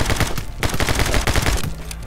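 Rapid machine gun fire in the video game My Friend Pedro, dense bursts of shots hammering continuously across the whole stretch, loud and close with a brief thinning near the end.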